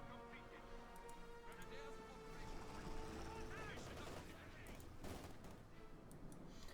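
Flare mounts bursting in Company of Heroes 2 amid a dense, continuous barrage of gunfire and battle noise, with a voice talking over it the whole time.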